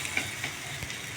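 Akki rotti, a Karnataka rice flatbread, sizzling on a hot dosa griddle, a faint steady hiss and crackle with a couple of soft taps, no talk over it.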